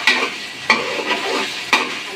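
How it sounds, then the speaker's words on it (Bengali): Onions sizzle steadily in hot oil in a pan while a utensil stirs them, with three sharp scrapes standing out over the constant frying hiss. "আমরা এখন পেঁয়াজ দিয়ে নিচ্ছি,"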